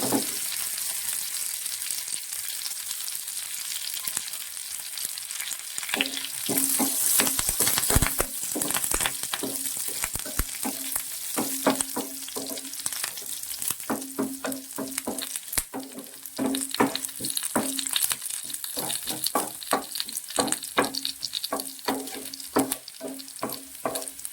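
Jackfruit pieces sauté in hot oil with dried red chillies in a pan. A continuous sizzle runs throughout, broken by frequent sharp clicks and scrapes from a spatula.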